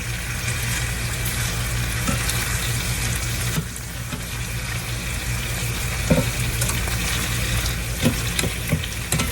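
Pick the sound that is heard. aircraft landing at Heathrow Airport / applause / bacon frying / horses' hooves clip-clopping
bacon frying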